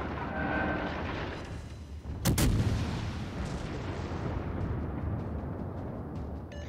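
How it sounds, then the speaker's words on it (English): Warship guns fire in the World of Warships Legends video game: a single heavy, booming salvo cracks out near the middle against steady background rumble, then fades into a lingering roar. "opening fire on the designated target"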